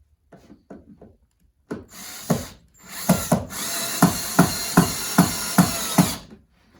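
A power drill whirs in short bursts and then a series of rhythmic pulses as a Ryobi wall mount is fixed into the wall in a workshop, close and loud, preceded by a few light knocks.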